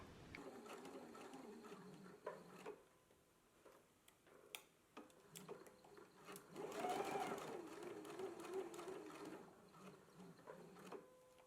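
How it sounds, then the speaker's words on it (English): A sewing machine stitches a continuous lap on a sleeve, starting with a few faint clicks and handling noises, then a steady, fast mechanical whir and ticking runs on through the second half. "Okay, I've just stitched on my continuous lap."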